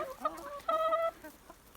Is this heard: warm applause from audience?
no